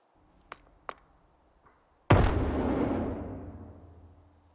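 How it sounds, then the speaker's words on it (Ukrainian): A grenade is thrown in STALKER 2. It gives two faint clinks, then a loud close explosion bursts in and rumbles away over about two seconds. "закидуємо от в цьому місці гранату на третій поверх"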